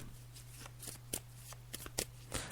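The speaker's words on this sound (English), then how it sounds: "I'm just shuffling the cards now, James." Tarot cards shuffled by hand during a psychic reading make soft repeated riffling and slapping bursts at an uneven rhythm, close and quiet, over a low steady electrical hum.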